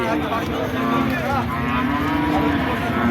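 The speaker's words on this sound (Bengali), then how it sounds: "আশেপাশে কিন্তু প্রচুর পরিমাণে গাভী গরু দেখতে পাচ্ছেন" A cow moos loudly and at length close by, a deep sustained bellow over the constant din of a crowded livestock market.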